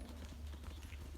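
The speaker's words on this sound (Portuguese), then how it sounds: "Depois você vai trotar o seu cavalo" A horse trots, its hooves producing a dense run of clip-clops over a loud, low rumble of wind or handling noise.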